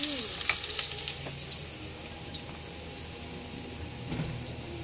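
Ginger sautés in a pan for eskabetsi, sizzling steadily with light stirring scrapes and a few clinks close by.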